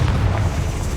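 A fiery Incendio spell blast from Hogwarts Legacy, cast against a spider, lands as a loud, sustained booming burst with a deep roar lasting about a second.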